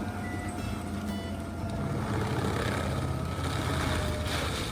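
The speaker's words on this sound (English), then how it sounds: "The Prinoth Raptor 500 forestry grinder, with its powerful engine, easily handles tough oak stumps and clears vegetation completely" A Prinoth Raptor 500 forestry grinder's powerful engine drones steadily while clearing oak stumps, a loud, continuous mechanical roar with no pauses or voices.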